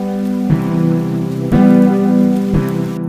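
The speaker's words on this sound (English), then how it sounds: "it's raining hard." Heavy rain falls steadily outside, heard from an enclosed space under a constant low droning hum. A dull thump recurs about once a second, and no one speaks.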